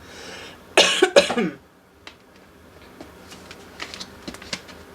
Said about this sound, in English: I don't think you want to hear me coughing for the whole reading